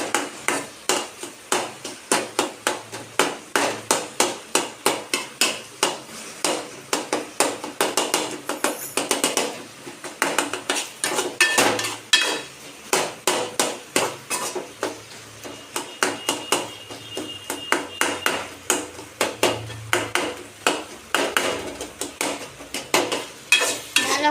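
Food being stirred and sautéed in a pan, with a steady stream of rapid scraping and tapping strokes from the utensil over a soft sizzle, close and continuous throughout.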